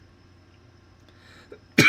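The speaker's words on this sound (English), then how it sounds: "Again, coming back from a cough." A single sharp cough bursts out at the very end after near silence, close and loud.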